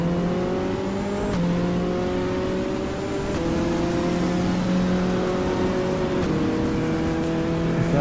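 A GT race car engine in the GTR2 racing game at Portland holds a loud, continuous high whine, its pitch stepping up and down through gear shifts with no talk over it.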